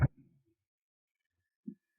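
A heartbeat sound effect: two dull, low thumps set far apart, a strong beat at the start and a softer one near the end, with near silence between them.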